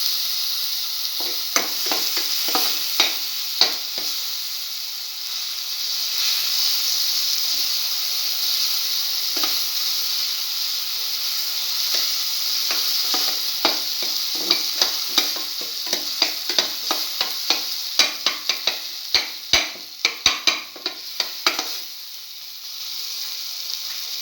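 Scrambled egg and tomato stir fry sautéing in a pan: a steady close sizzle with repeated scraping and stirring clicks, the strokes getting busier toward the end, no talking.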